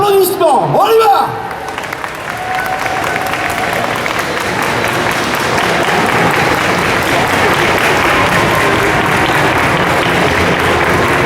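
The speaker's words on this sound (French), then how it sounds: "on les accueille avec non pas un tonnerre, mais une foudre d'applaudissements" An audience gives steady, dense applause to welcome the Noob panel at the Paris Manga convention, following a brief voice at the start and then filling the hall alone.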